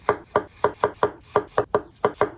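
Knife chopping vegetables for coleslaw on a cutting board, about ten crisp, evenly spaced strokes in a steady rhythm, close and clear with no talk.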